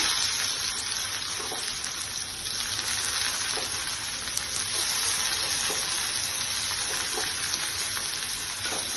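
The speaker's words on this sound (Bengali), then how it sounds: "পেঁয়াজটাকে এভাবে একটু ভালো করে ভাজতে হবে।" Onions frying in a pan for Bengali potol bhorta, giving a continuous, even crackling sizzle with no pauses and no talking.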